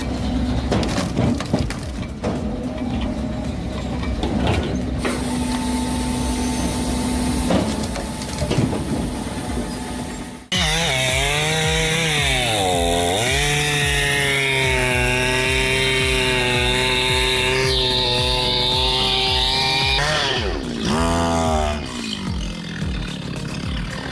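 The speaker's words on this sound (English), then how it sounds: "machine made to cut big logs quickly. It uses a powerful hydraulic system and can make up to 5 pieces of firewood at once." A powerful hydraulic firewood processor cuts big logs, its engine droning loud and steady with rising and falling saw and hydraulic whine, a heavier grinding stretch before a sharp shift into a tonal, wavering cut that runs on continuously.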